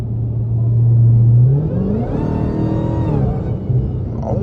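A Dodge Jailbreak Hellcat fitted with a Legmaker intake revs hard nearby, its deep rumble rising with a climbing supercharger whine and then settling into a steady, throaty idle, with no talk.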